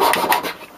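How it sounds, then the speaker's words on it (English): Sandpaper wrapped on a small block rubbed over a small wooden piece to smooth it, giving a close, steady rasping scrape in a few quick strokes that fade toward the end. "I'm just going to be using a little block with some sandpaper on it"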